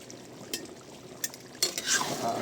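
Chicken being stirred in a frying pan with a utensil, a few soft scraping clinks spaced apart over a faint sizzle, close and quiet.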